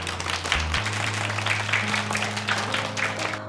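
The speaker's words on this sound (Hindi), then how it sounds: "आप सबके लिए तो तालियां होनी चाहिए।" A crowd applauds with steady, dense clapping that fills the room throughout, fairly loud and close, at a short film festival.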